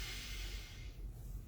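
A slow, deep inhalation during a guided breathing exercise, a soft airy hiss of breath close to the microphone that fades toward the end.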